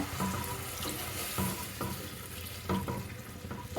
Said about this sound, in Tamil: இப்போ இந்த ஈரல் வேகிறதுக்கு கொஞ்சமாக தண்ணி சேர்த்துக்கலாம்